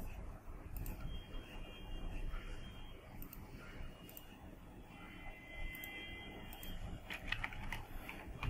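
Quiet keystrokes on a computer keyboard during a software search, faint and scattered, with a short flurry of taps near the end over a low room hum.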